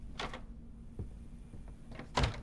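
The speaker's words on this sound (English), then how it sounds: "Door unlocked, I heard it." Quiet mechanical clicks and a short sliding clunk, ending in a louder latch-like thud, as a door unlocks in the game Den-Den: Tokyo Horror.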